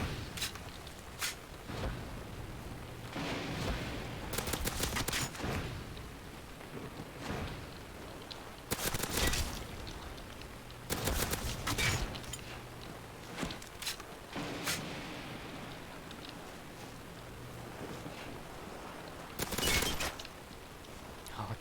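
Pistol gunfire in the video game UGX Requiem zombies map, several sharp shots spaced irregularly amid game noise, with a voice talking at times.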